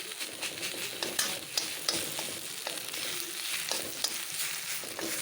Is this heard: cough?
no